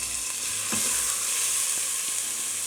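Onions frying in oil with golden garlic and cumin seeds for a coconut corn curry, a continuous loud sizzle with a couple of faint stirring clinks, no speech.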